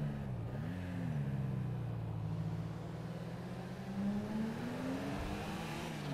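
A Golf accelerating in the game GTA V, its engine droning and revving with a rising and falling pitch, steady and fairly quiet throughout with no talk.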